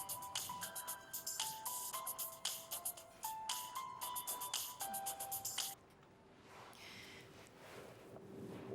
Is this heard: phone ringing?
yes